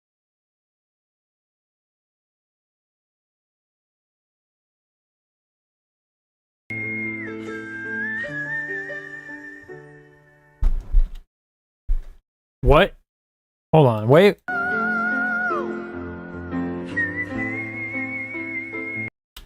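After silence, a voice sings in whistle register, a very high, thin whistle-like tone that sustains and slides, broken by short bursts of speech.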